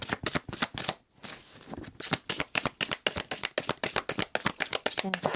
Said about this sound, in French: je vais vous tirer des cartes sur un nouvel oracle que j'ai pas trop utilisé jusque-là